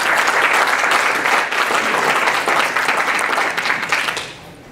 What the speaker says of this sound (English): you're in a friendly crowd, man, when they clap for you before you say that